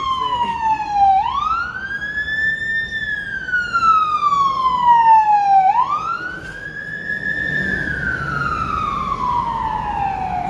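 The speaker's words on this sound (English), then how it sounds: "Oh, the ambulance." An ambulance siren wails in a rising and falling sweep, two long cycles swelling and fading as it passes at moderate distance over steady road noise.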